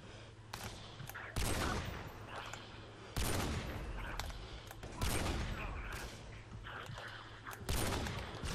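Video game gunfire crackles in repeated bursts of shots, with a few louder volleys standing out against a steady background, while someone talks over much of it.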